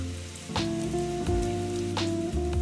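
Steady rain in a video game patters on a surface with a constant wash of noise, while a low sustained musical drone and tones play over it.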